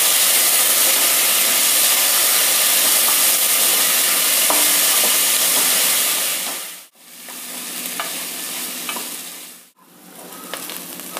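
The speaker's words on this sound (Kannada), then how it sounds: "ಮೆಂತ್ಯ ಕಾಳಂತೂ ಸಿಡಿಯೋ ಥರ ಸೌಂಡ್ ಬರೋಕ್ಕೆ ಶುರುವಾಗುತ್ತೆ" Soaked fenugreek seeds fry in hot oil alongside onions, giving a dense, steady sizzle with scattered small pops and crackles. The noise is close and continuous, broken twice by brief near-silences, with no voices.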